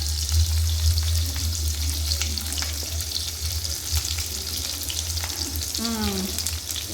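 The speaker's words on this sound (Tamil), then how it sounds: "அடுத்து வந்து சின்ன வெங்காயத்தை போட்டுக்கலாம்." Shallots frying in a pan give a loud, steady close-up sizzle, joined by a low steady hum and a few light stirring clicks, with no one speaking.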